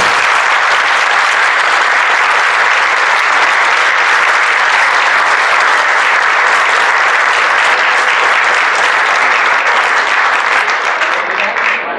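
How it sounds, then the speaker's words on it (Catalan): A loud, sustained round of audience applause for volunteers and speakers at a talks event, dense clapping from a sizable crowd that carries on steadily before tapering slightly at the very end. "Pels voluntaris i pels ponents, voldria demanar un fort aplaudiment."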